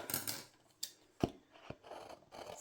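Scissors snip through a sheet of A4 paper for a handmade get well card, giving a few sharp, close cuts separated by short pauses, with no talking.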